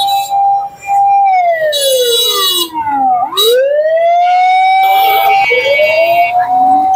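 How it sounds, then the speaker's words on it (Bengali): An ambulance siren wails loudly and close at a railway crossing during crowded holiday traffic, its pitch sweeping up and down as it passes, with no talking. "এখানে রেলগেট, অ্যাম্বুলেন্স যাচ্ছে"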